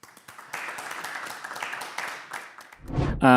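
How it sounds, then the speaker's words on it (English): Audience applause for a startup pitch at a live event, a steady crowd clapping for about three seconds before a louder voice cuts in at the end. "Let's do a round of applause"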